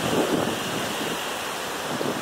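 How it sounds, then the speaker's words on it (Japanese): Roaring ocean surf and gusting wind on an Okinawa shoreline as a typhoon approaches, a loud continuous wash of breaking waves with wind buffeting the microphone, no voices. "どんどんどんどん波の量が、波数が増えてっています。"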